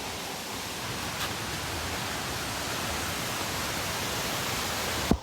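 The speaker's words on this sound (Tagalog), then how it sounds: "Dahil relaxing talaga yung waterfalls natin" Steady, even rushing of a waterfall at a tourist spot in Valencia, Negros Oriental, a constant broadband roar with no talking and a brief knock near the end.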